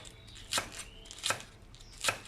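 Three sharp knife chops slicing vegetables on a cutting board, evenly spaced about three-quarters of a second apart, close and fairly quiet with no talking.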